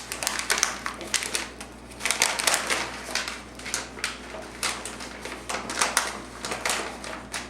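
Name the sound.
paper being crunched down for a hat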